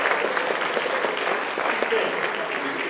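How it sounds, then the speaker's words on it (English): Applause fills a hall at a computer science summit prize announcement, a dense steady clapping from a sizeable audience with a voice speaking briefly over it. "We just get the applause right now."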